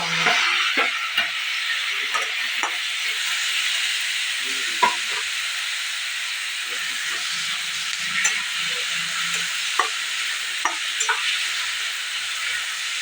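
Tomatoes fry in a pan after onions, a steady close sizzle and hiss running throughout with scattered clinks and scrapes of a spoon stirring them, no voices.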